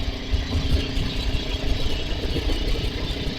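A Suzuki TL1000R motorcycle engine runs rough in first gear, a loud, close, uneven low rumble with irregular pulsing throbs and no voices over it.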